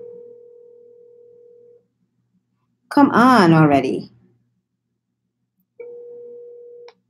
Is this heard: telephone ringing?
yes